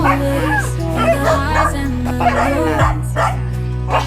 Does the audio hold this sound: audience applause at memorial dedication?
no